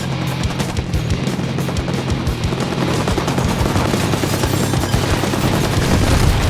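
Loud, continuous automatic gunfire mixed with explosions in the video game Halo 5, dense rapid bursts and booms with no letup, close and intense.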